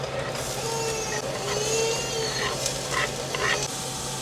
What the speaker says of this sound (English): Okay, now I'm going to add the onion.